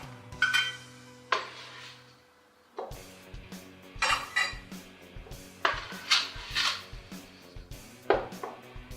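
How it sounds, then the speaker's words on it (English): A whisk beats oil and sugar together in a bowl for zucchini bread, giving rapid metallic clinks and scrapes in uneven bursts separated by short pauses, close and moderately loud, with a low hum underneath and no voices. "just use a whisk and get that all blended together"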